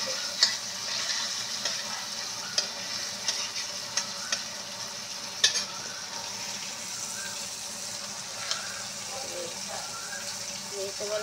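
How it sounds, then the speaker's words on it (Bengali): Potatoes frying in a pan for a Bengali Malabar spinach and prawn dish, giving a steady soft sizzle with a few sharp pops and crackles, fairly close, with no talking. "আলুটা একটু ভাজা করব, আলুটা ভাজা হলে"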